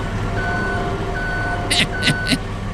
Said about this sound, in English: Was the Jungheinrich beeping because it was going backwards?